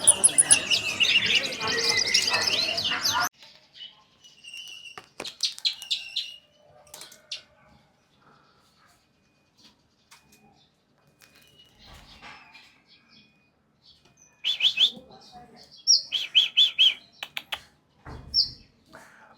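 A white-rumped shama opens with a loud burst of bright, rapid warbling, followed by quieter scattered chirps and clicks, then more sharp bursts of song near the end.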